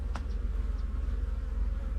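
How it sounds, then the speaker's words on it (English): Bees living inside a wall of an abandoned house give off a steady low buzzing drone. A few brief higher buzzes come from single bees flying close by. "look at the bees."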